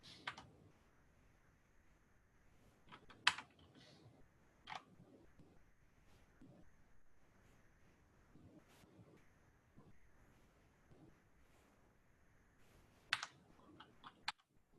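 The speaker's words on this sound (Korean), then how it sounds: "제가 지금 단축키를 계속 쓰고 있는데요" Quiet, scattered key presses and clicks on a computer keyboard as shortcut keys are used, sparse taps with occasional sharper clicks over a low room hiss.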